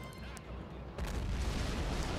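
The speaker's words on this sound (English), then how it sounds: "explosions! I love it." Explosions in the World War II strategy game Men of War: Assault Squad 2 land as a deep boom swelling into a low rumble about a second in, following a quieter stretch of battle noise, with no speech.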